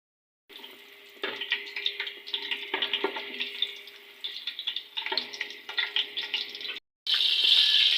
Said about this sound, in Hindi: जीरा और मिर्चों को 1 से 2 मिनट हमने भूनने के बाद इसमें हम डाल देंगे कीमा।